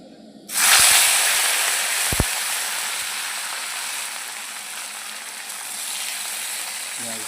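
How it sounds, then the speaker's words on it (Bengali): Fish frying in a hot karai of oil, a loud steady sizzle that bursts in at once and holds for several seconds, with a few faint clinks early on. "মাছটা ভেজে নিচ্ছি"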